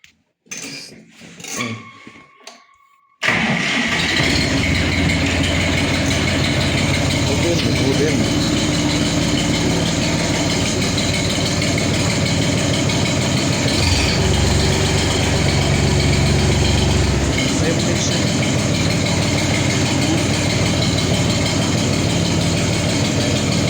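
A DMTZ 244X tractor's diesel engine cranks and catches after a few brief clicks and a beep, then settles into a loud, steady idle that holds close by for about twenty seconds with a slight dip in the rumble midway.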